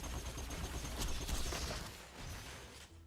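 Rapid gunfire from a weapon in a video game, a dense, noisy rattle of shots that holds steady at a moderate level throughout, with no talking.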